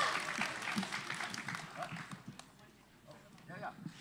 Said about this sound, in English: let's applaud all these poets for doing a lovely job